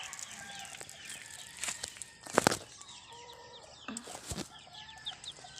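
Chickens clucking and flapping near chicks being fed, with scattered short calls, a couple of louder bursts of wing flapping and activity, fairly quiet overall with no talk.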